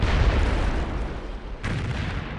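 Bombarder artillery bombardment in Civilization 3, a dense rumbling roar of fire that stays loud throughout, with a brief dip before a renewed burst of booming impacts.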